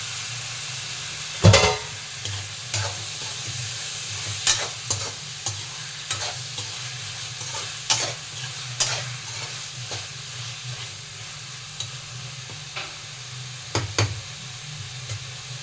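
Prawns frying in a pan with tomato and onion masala for a prawn pepper masala, a steady sizzle with repeated spoon scrapes and clicks as the mix is stirred, one louder clank near the start.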